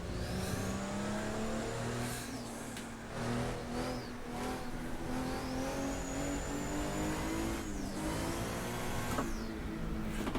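A race car engine in the Assetto Corsa racing game, DRM Revival Pack, held in first gear through a slow left-hander: loud and close, with a steady droning note and revs that swell and dip a few times.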